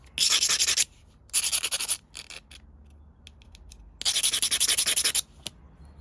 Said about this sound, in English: I would need to sand that as well